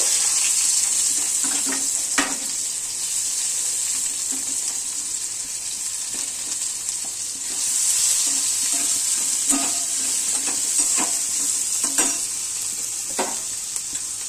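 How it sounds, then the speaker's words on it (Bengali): Chopped onions frying in a pan produce a loud continuous hiss, with a spatula scraping and tapping now and then across the whole stretch, heard close and without speech. "প্রথমে আমি পেঁয়াজ কুচি দিচ্ছি"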